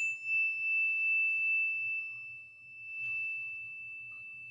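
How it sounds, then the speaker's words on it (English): A single chime rung during a Sunday service rings out with a bright, sustained tone that holds steadily and fades slowly, heard alone with a faint low murmur beneath. "listen to the sound of the chime"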